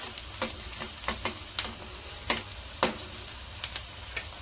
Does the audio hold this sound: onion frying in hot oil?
yes